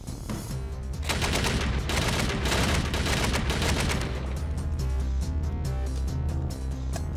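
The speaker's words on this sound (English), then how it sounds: "I'll send one full magazine and see if I can do a decent mag change with no sling and get another one in there." A rifle empties a full magazine in rapid, continuous fire: a dense, loud run of sharp cracks with no speech over it.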